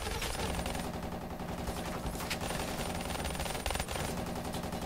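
Rapid gunfire from pistols in a mystery-box window-wars video game match, dense overlapping shots filling the whole stretch at steady loudness with a louder burst near the end.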